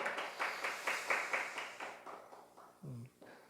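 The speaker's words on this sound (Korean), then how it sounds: "우리 감사하다고 우리 박수로 한번 환영하고 축복하겠습니다" A church congregation at a Sunday service claps together in a steady rhythm, fading out near the end before a brief spoken word.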